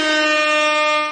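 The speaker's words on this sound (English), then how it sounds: "Let's give him a fucking air horn." A loud, blaring air horn sound effect drops in on a live wrestling talk show, a single sustained harmonic blast lasting just over a second before stopping abruptly.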